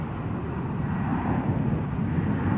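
An Air France Airbus A380-861 lands at San Francisco International, its engines making a loud, continuous broadband roar that swells slightly, heard alone without voices.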